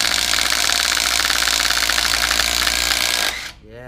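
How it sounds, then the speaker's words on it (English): A Craftsman V20 quarter-inch cordless impact driver loosens a car lug nut with a loud, rapid hammering rattle. The burst lasts about three seconds, then cuts off into quiet. "put it on the quarter inch Craftsman, and see if it can loosen it"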